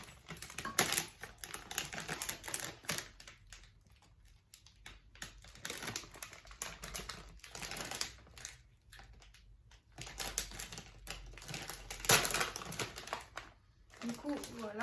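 A plastic sachet of wax pellets is torn open and handled close up, with crinkling and rustling in bursts over about fifteen seconds, under a woman's speech.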